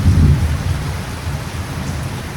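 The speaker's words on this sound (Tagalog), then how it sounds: "Ulan, sumapatak pa." Rain falls steadily outdoors in a dense, even hiss with a low rumble beneath, moderately loud and continuous, with no voices.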